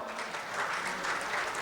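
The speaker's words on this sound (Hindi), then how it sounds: "बस ताली बजाओ" An audience claps steadily throughout at a religious ceremony held at an ashram in Indore, dense and continuous from many people.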